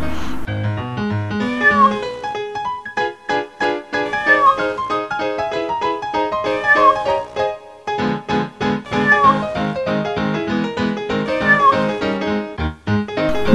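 A pet cat meows again and again, its tonal cries rising and falling over a steady, harmonically rich background that runs through the whole stretch.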